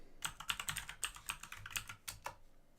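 Keys clatter on a computer keyboard in a steady run of close, crisp taps, with a few brief pauses before the typing resumes.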